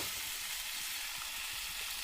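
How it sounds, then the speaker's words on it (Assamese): Chopped ripe mango goes into a pan of frying dried red chillies and panch phoron spices, making a steady close sizzle with a short louder hiss of stirring at the end. "এতিয়া ইয়াতে দি দিছোঁ কাটি লোৱা আমখিনি।"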